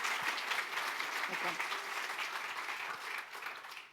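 An audience at an indie game developers' conference applauds at the end of a talk, a dense, sustained clapping that fills the room and fades slightly toward the end, with a brief spoken word over it.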